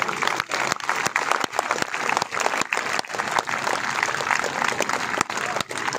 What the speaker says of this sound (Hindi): एक बार जोरदार ताली बजाओ अनशनकारियों के लिए।